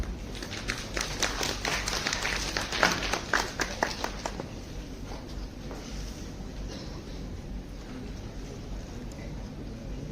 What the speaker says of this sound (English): Please join me in giving a warm round of applause to our co-coordinator.